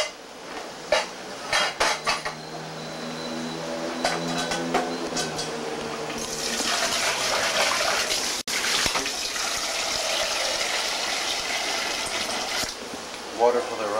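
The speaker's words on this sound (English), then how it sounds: "Water for the rice." Water gushes steadily into a cooking pot for rice in a home kitchen, a sustained rushing pour following clinking pots and cutlery, with people talking nearby.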